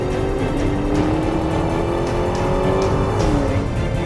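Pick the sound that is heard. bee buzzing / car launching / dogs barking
car launching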